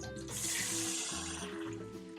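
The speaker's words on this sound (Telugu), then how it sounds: "సాజీరా కొద్దిగా వేగిన తర్వాత దీంట్లో వాటర్ యాడ్ చేస్తున్నా." Water is poured into a cooking pot holding hot oil and shahi jeera for Hyderabadi biryani rice, a short close splashing gush that runs for about two seconds.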